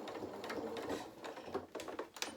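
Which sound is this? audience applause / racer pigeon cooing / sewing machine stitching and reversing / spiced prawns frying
sewing machine stitching and reversing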